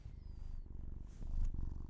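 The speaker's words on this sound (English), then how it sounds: "He's gonna purr in the microphone now." A cat purrs right up against the microphone in a steady, rumbling low purr that runs the whole time and swells slightly toward the end, with no voices over it.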